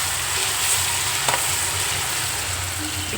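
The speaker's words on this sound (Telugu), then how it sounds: "వన్ సైడు ఆల్రెడీ కొంచెం చికెన్ వేసాను ఫ్రైకి" Chicken pieces frying in a pan with onions and garlic paste for Andhra-style chicken pachadi, a steady close sizzle with faint stirring clinks, no talk.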